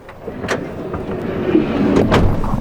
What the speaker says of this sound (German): Wir machen die Tür mal zu